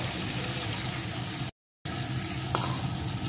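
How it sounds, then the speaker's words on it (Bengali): Cauliflower florets frying in oil in a pan over medium-low heat, a steady close crackling sizzle with a brief break midway and a small clink near the end. "এখন ফুলকপিটাকেও সুন্দর করে ভেজে নেব। আর ভাজার সময় আঁচটা কিন্তু আমি মিডিয়াম টু লোতে করে দিয়ে ভাজবো"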